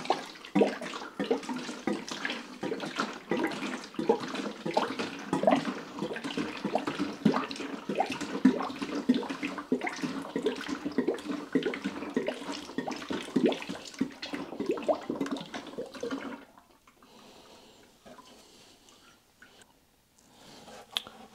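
Drained automatic transmission oil from a Volvo XC with a TG-81SC gearbox is poured into a measuring container in a steady, splashy stream for about sixteen seconds, then cuts off to a faint trickle.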